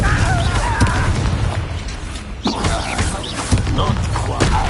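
An Expelliarmus spell is cast in a video game, heard as a sudden burst and thump over a dense, continuous wash of game sound, with voices throughout.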